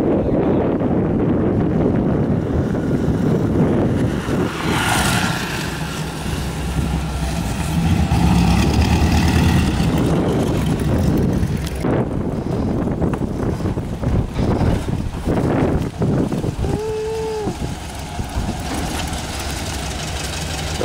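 Engine of an approaching banana buggy in Brazil, a steady low rumble under wind buffeting on the microphone, running continuously throughout with a brief rising whine near the end.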